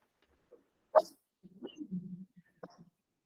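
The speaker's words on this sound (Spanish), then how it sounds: "A mis perros no les gusta mucho esta conversación." A few dogs give brief, quiet barks and yips, with a whimpering whine in between. The sounds are short and scattered and seem to come from a little distance.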